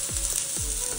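Methi thalipeeth frying in oil on a hot griddle gives a steady, dense sizzle with a few soft low knocks, close and loud, with no voices.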